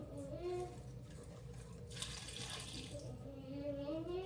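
Water runs from a tap into a container to fill it for watering a Peace Lily houseplant, a faint, soft trickle and splash that swells briefly midway, with gliding pitched tones rising as the vessel fills.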